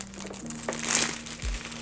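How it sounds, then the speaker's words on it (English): An EK AIO Basic 240mm liquid cooler radiator being pulled from its packaging, with close, soft crinkling of plastic or foam wrap over a quiet background hum. "And then let's go ahead and pull out this radiator."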